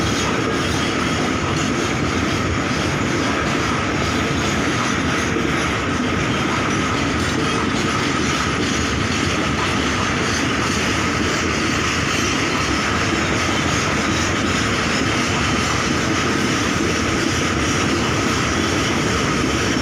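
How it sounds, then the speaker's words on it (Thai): A Thai express passenger train rumbles and clatters past a station, loud and continuous from start to finish with no pauses. "บางทีเสียงรถไฟมานานนะครับ"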